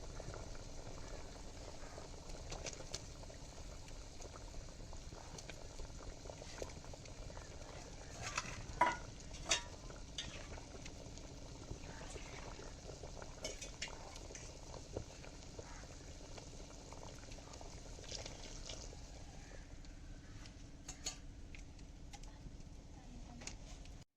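A pot of wallago fish curry with ground coconut, onion and cumin simmers with a soft, continuous bubbling, low and steady throughout, with faint occasional clinks.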